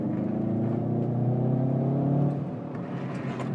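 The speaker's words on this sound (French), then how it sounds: "Il y a même les motos. MotoGP de 1971." A simulated 1971 MotoGP motorcycle engine whines at high revs, holding a steady pitch before dropping off, then idling lower.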